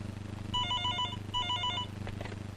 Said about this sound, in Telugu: ఉండు, ఫోన్ వచ్చింది